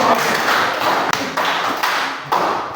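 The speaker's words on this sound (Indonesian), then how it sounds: "Oke, kita tepuk tangan." A classroom of physics students clapping hands together, a dense sustained patter of many hands under a faint voice, close and fairly loud throughout.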